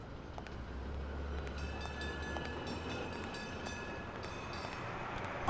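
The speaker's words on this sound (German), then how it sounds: "die Geräusche da von der Straßenbahn" A steady rumbling tram in the video game Blacksad: Under the Skin runs continuously with faint high squeal tones and occasional clicks, fairly quiet and without speech.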